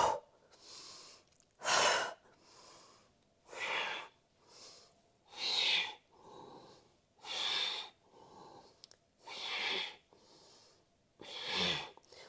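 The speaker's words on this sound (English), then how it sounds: "every time you pull the belly in and up, you exhale. Inhale, exhale. You can go faster." Rapid, forceful yoga breathing with the belly pulled in on each exhale produces a steady series of sharp, noisy nasal breaths, each followed by a softer inhale, close up and repeating about every second for the whole stretch.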